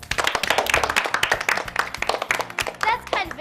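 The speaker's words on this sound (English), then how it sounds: "The sound of hands clapping, isn't it?" A round of hands clapping in a small group, sharp distinct claps in a quick irregular rhythm, close and fairly loud, with a voice and other talk heard over them.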